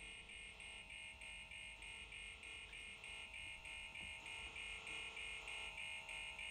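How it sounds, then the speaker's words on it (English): Alarm going off in the Alien: Isolation video game, a rapid pulsing electronic buzzer tone repeating steadily and evenly, fairly faint with a low background rumble and no talking. "Turn on the alarm and the lights."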